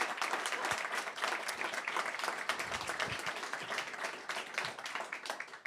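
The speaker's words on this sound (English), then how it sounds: "Let's give an applause to Marc." Steady applause from an audience at a public library in Tampere, dense clapping at an even level throughout with no voices over it.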